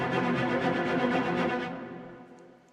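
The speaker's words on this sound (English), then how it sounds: "the discrete sixteenths sound like this" Discrete sixteenth-note strings from the Spitfire Symphonic Motions library, played as separated repeated notes in a steady pulsing rhythm with spaces between them, full and close, then ringing out in a decaying tail.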